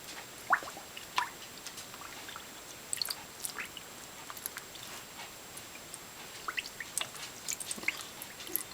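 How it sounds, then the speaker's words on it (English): A coil of wool roving is gently lowered into water, producing scattered quiet drips, squishes and small splashes over a near-silent background. "now I'm going to take my coil and gently submerge it"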